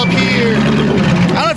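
An old gear drive tractor engine idles with a low, steady thumping hum while someone talks close over it.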